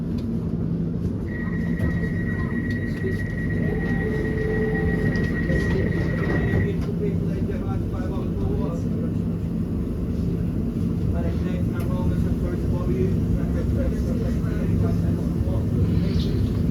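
A London Overground Weaver line train to Enfield Town runs with a steady, loud rumble and hum, while an onboard announcement voice speaks over it.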